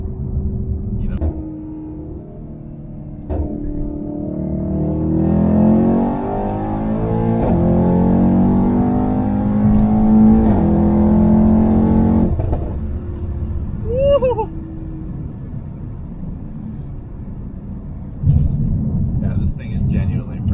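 A 2019 Mercedes E63s engine and exhaust rev hard while driving, a loud deep roar climbing through gears with rising and falling pitch, then crackles and pops on lift-off, heard from inside the car.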